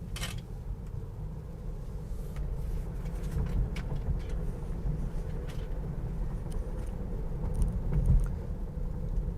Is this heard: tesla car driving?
yes